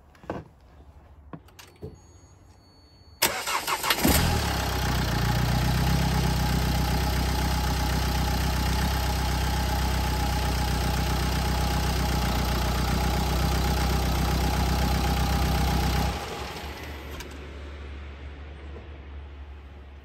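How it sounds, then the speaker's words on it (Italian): A car engine, started with a 12V jump starter, cranks briefly and catches, then settles into a loud, steady idle that runs for about twelve seconds before cutting off abruptly. "ora avviamo il motore"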